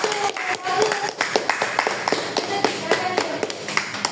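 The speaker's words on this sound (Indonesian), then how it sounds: "kasih tepuk tangan dulu untuk kelompok 1" A group clapping with irregular, overlapping claps at close range, steady for several seconds, with faint voices underneath.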